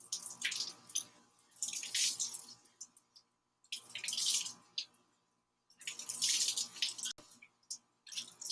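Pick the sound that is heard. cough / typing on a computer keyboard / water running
water running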